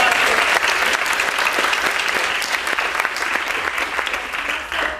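Sustained round of applause from an audience at an Alzheimer's awareness dance show, dense steady clapping filling the room for several seconds with no talk over it.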